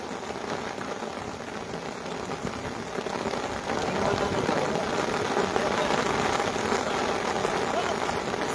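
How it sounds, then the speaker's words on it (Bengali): Heavy rain pours down during an outdoor mini football tournament final, a dense, steady hiss that grows a little louder partway through. "এত জোরে বৃষ্টি এসছে"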